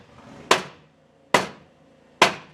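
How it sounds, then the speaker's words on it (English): Hammer blows on a truck exhaust during a cat-back install on a 2006 Ram Turbo Diesel: three loud, close metallic strikes spaced under a second apart, each ringing briefly. "Hammer time!"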